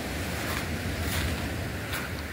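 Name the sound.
sea waves at Sumadag Beach, Maconacon, Isabela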